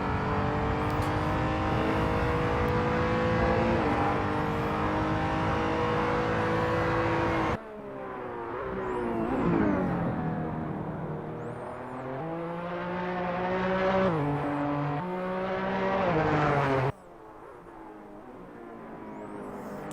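Race cars in a racing video game, engines revving and shifting through gears with rising and falling whines, loud and close, with sharp cuts between cars and no talk.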